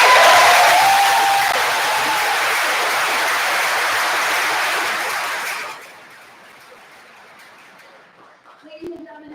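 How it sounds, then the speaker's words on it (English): Loud, sustained audience applause at a 2025 commencement ceremony, a dense crowd of clapping that holds steady, then fades abruptly to quiet room noise. "please give another round of applause for our female and male aviator citizenship"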